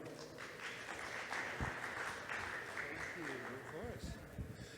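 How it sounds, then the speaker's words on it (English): Audience applause at a conference talk, a continuous even clapping wash under a voice speaking faintly near the end. "Please give a nice big round of applause to Brook."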